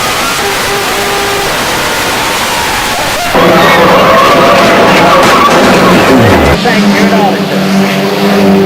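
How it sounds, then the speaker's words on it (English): A multi-car stock-style racing wreck on track: loud, continuous engine roar and tire noise that surges into a denser crash-and-skid commotion partway through, with a commentator talking over it. "There's a big wreck going on in front of us down here."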